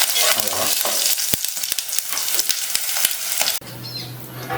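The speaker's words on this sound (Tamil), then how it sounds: "கொஞ்சோண்டு கடுகு, கருவேப்பிலை, பட்டை மிளகாய் அதை அப்படியே போட்டு தாளிச்சிடுங்க" Mustard seeds, curry leaves and dried red chilli tempered in hot oil for a mint chutney, giving a loud, dense crackle and spatter close by that cuts off abruptly near the end, leaving a quieter hiss.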